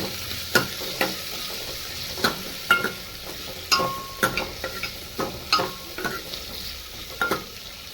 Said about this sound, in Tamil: சின்ன வெங்காயம் நல்லா வணங்கணும்